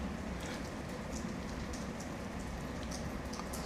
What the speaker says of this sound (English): in these conditions where it's wet, it's rainy